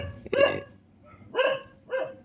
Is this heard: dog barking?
yes